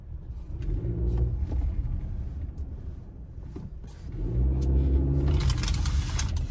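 A Honda Civic RS Turbo, being checked for a possible bad CV axle, drives on a full right turn, its engine rumbling up and down in two swells with no obvious clicking, heard from inside the car.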